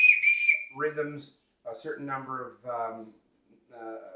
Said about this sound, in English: This is called a bosun's whistle.